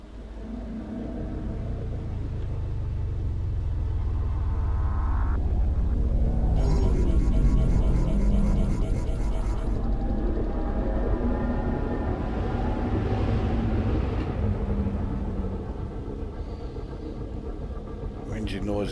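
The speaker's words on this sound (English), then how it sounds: "Engine noise is a bit quiet" A spaceship lifting off a landing pad in the video game Elite: Dangerous makes a deep engine rumble that swells and shifts in tone, moderately loud, with a voice talking over it.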